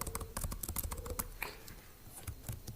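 Fingers tap out a search word on a computer keyboard in a quick, close run of clicking keystrokes that slows briefly toward the end.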